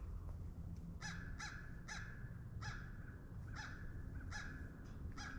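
A crow caws at a disc golf course in a series of about seven harsh, evenly spaced calls, moderately close against quiet outdoor background noise, with no talking.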